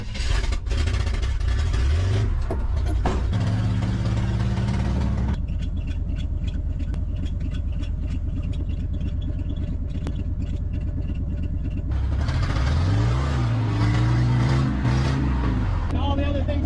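The 350 V8 of a rusty 1984 Chevy square body truck, running at close range, rising and falling revs with a steady idle stretch in the middle, people talking during parts of it.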